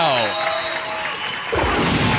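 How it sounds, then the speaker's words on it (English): Basketball crowd at a high school girls game between St. Paul Central and Minneapolis South, fans on their feet clapping in a dense sustained wash of applause beneath a commentator's voice. "South fans on their feet as well, you know, clapping"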